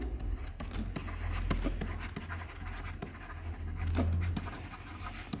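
Pen writing by hand on paper during an accounting exercise, a steady scratchy stroking that runs continuously at close range over a low hum.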